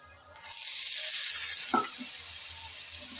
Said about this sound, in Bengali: হালকা করে একটু নেড়ে চেড়ে ভেজে নিলাম। এখন দিচ্ছি আলু,